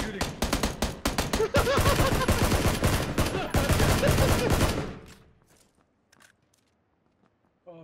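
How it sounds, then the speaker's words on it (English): Rapid bursts of video game gunfire rattle loudly and densely for several seconds, then cut out abruptly, leaving near silence with a few faint clicks. "He's shooting."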